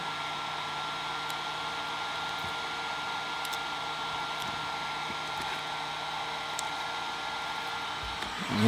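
A heat gun blows steadily on a vinyl wrap decal for a Ford Bronco center grab handle, a constant close airy roar with faint handling clicks and no talking.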